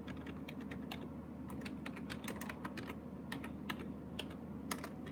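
Steady keyboard typing with irregular clicks and keystrokes, close and clear over a constant low background hum, with no speech.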